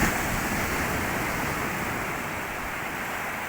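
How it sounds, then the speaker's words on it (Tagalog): Pacific Ocean waves washing onto a beach, a steady, dense and loud roar of surf with no breaks and no voices. "Ayan, may alon."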